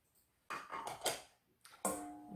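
Cornstarch slurry poured into an Instant Pot holding pot roast with carrots and potatoes, a few soft splashing bursts and a clink of a container against the pot, close by, with short pauses between.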